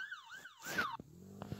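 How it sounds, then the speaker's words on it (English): A wailing emergency vehicle siren in the Roblox game Brookhaven sweeps up and down for under a second, then cuts off, leaving a few short clicks and a low hum. "let's turn off the sirens"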